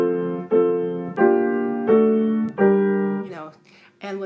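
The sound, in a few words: choppy hymn playing on keyboard without legato pedaling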